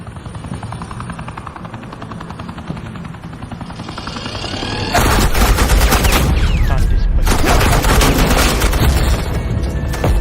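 Suppressing gunfire in the Batman Telltale game, a sustained loud burst of rapid shots and booms that erupts midway over a helicopter-like drone, continuing dense and close to the end.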